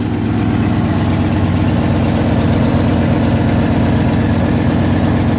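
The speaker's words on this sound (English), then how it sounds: "Just want to get a nice little idling walk around video." A Ford F250 Camper Special Sport Custom idles with glass pack style mufflers, giving a steady, loud, close-up burbling rumble that holds even throughout with no talking.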